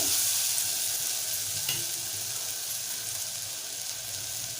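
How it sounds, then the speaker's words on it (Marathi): Spices and sprouted chana frying in a pan, a continuous close, bright sizzle that eases slightly as the mix is stirred, with no talking. "एकदा फिरवून घेऊया हे बघा मसाले छान मिक्स झाले"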